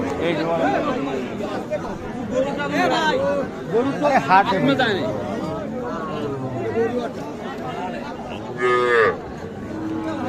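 Cattle and small calves, young bulls and heifers, moo repeatedly at a cattle market, some calls loud and close, over a busy crowd of people talking in the background.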